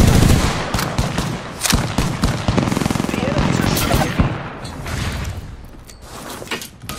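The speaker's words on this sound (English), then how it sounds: "They spotted me. I'm taking shots." Video game gunfire aimed at the player arrives as rapid, close automatic bursts and sharp cracks, loudest in the first few seconds and thinning toward the end.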